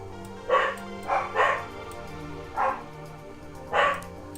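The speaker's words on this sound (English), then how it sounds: "Apologize for the dogs barking." Dogs bark indoors, five sharp woofs at uneven intervals, some in quick pairs, at moderate distance with quiet gaps between.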